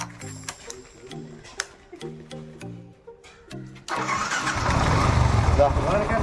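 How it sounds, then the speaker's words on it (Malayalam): A few clicks and mechanical ticks, then a Yamaha FZ motorcycle engine with a repaired carburettor catches and settles into a steady, close idle. "ഇനി അടുത്ത നമ്മുടെ വണ്ടി സ്റ്റാർട്ട് ചെയ്ത് നോക്കിയാണ്. സ്റ്റാർട്ട് ചെയ്യുന്നു."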